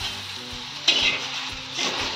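Garlic, fresh coriander and spices roasting in a pan for a Nashik-style misal masala, giving a steady close sizzle with brief louder bursts of stirring, no voices.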